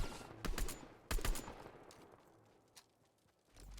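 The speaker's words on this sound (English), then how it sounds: "Making him come out where I can shoot him." Gunfire in a shooter video game comes as a few sharp, fairly faint shots in quick pairs early on, then a single later crack, with quiet gaps between them.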